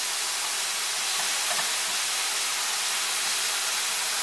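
Bacon lardons sizzling in a hot frying pan with no added fat, a steady dense crackling hiss that holds evenly throughout at close range.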